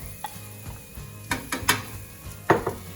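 Onions, peppers and garlic cook in a pan for fried rice, a low sizzle under several sharp clinks and scrapes of a utensil against the pan, clustered near the middle and end, with no talk.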